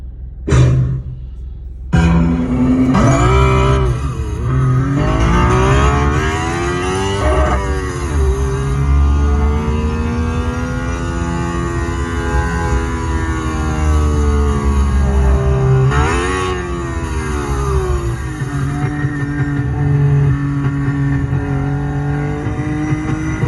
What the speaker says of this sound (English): I'm going to go for this one now, because this has got a turbo on it